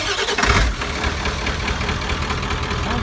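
Straight-piped OBS dually truck with a turbo, muffler and catalytic converters removed, idling up close: a steady, raspy low rumble with a brief louder surge near the start.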